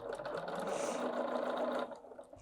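A Bernina 770 QE Plus sewing machine stitching cotton runs in a steady, close mechanical whir for nearly two seconds, then stops abruptly, leaving quiet room tone.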